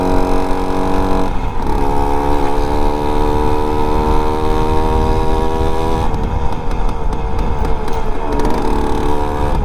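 A Suzuki Max 100 motorcycle converted into a dirt bike, with a stiff clutch, runs steadily and loudly up close, its engine note droning on and shifting in pitch partway through as it revs.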